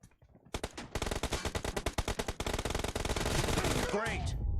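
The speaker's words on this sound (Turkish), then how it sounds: "Bak bak bak bak oradan bu tarafa sıkıyor." Rapid bursts of automatic gunfire from an enemy in an M4 shooter video game rattle in a dense, sustained volley, loud and continuous for several seconds before a sweeping effect at the end.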